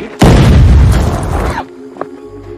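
A grenade blast in a film: one sudden, loud, deep boom bursts in and rumbles for over a second, then cuts off, leaving a faint small pop and low hum.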